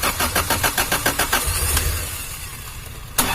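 A Honda Civic Genio engine cranks with a rapid, even starter rhythm for over a second, then catches and settles into a steady idle, ending with a brief click, close and loud.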